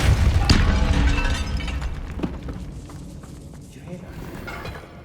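A Depulso spell cast in Hogwarts Legacy inside a tomb, opening with a loud magical burst and thump, then a decaying rumble with scattered clatter and game effects fading over several seconds.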